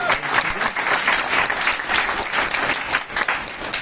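An audience at a seminar applauding, dense and steady clapping with no break throughout.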